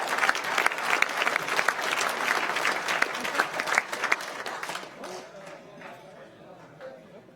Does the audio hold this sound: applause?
yes